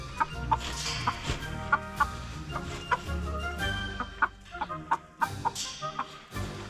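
A rare Ayam Cemani rooster with hens in a backyard enclosure, clucking in a steady series of short close calls over a low background rumble, with no talk.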